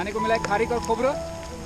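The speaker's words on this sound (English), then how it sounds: "It's been raining continuously from the start of day 3." Steady rain falls on a mountain trail during a cold, high-altitude Himalayan trek on the Sarpass route toward Mung Tach, around 11,150 ft. The patter forms a constant background beneath a person speaking.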